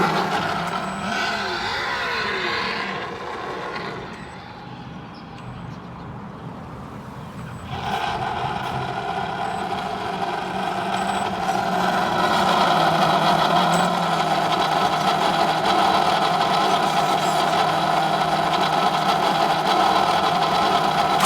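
A Traxxas Drag Slash RC car runs fast with a loud, steady motor whine that rises and holds near the listener. No one speaks.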